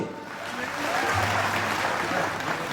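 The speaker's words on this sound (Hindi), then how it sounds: "सब मन जोरदार ताली।" Audience at a political welcome event bursts into steady, dense applause, with clapping building and continuing throughout, a faint voice audible beneath.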